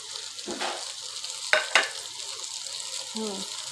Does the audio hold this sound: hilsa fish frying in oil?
yes